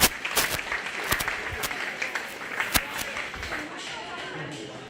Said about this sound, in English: Give them all a big round of applause as they go ahead and exit